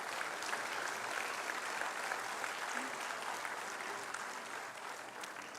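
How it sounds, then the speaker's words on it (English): An audience at the Class of 2023 convocation of the Kautilya School of Public Policy applauds with a dense, continuous wash of clapping that fades slightly toward the end. "Big round of applause for our..."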